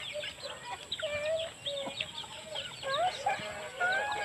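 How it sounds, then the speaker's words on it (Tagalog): Native chickens cluck and chirp steadily on a hillside farm, several birds close by with overlapping short calls over a constant background hum. "Gusto nyo po ng native chicken."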